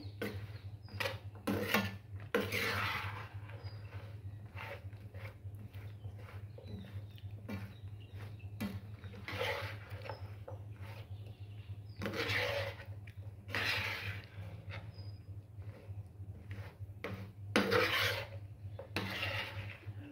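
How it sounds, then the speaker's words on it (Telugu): Phool makhana (fox nuts) being stirred into caramel in a pan, heard as repeated scraping, rasping strokes of a spoon against the pan, fairly close, over a steady low hum with no talking. "ఇది మొత్తం ఇలా కలిసేలాగా అయితే కలుపుకుందాము"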